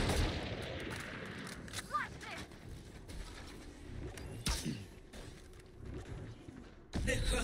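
Gunfire from the Valorant video game crackles in scattered bursts, with loud sharp shots near the start and end and quieter reports in between, mixed with other game sounds and a voice talking.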